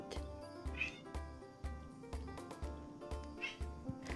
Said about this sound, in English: why are you meowing so loudly?